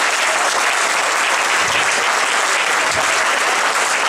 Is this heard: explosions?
no